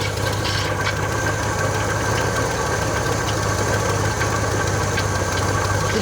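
A 1977 Pontiac LeMans engine runs continuously with a rough, steady idle and a persistent knocking rattle underneath, close and loud throughout.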